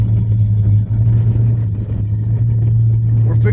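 A 1970 Buick GS Skylark idles close by outdoors, a steady deep low rumble that holds evenly through the whole stretch with a brief dip near the start.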